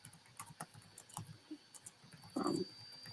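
Computer keyboard typing: a run of light, irregular key taps at close range, ending in a brief, louder cluster of keystrokes near the end.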